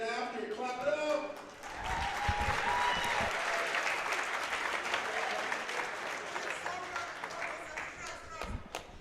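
A crowd at a USA vs. The World wrestling event applauds steadily for several seconds, the clapping sustained and moderately loud with a voice speaking over it at the start.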